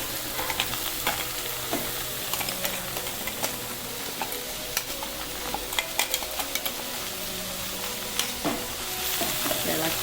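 Spinach thoran with ground coconut paste being stirred in a hot pan, a steady sizzle and frying hiss under repeated scraping and tapping of a spoon against the pan, close and continuous with no talking.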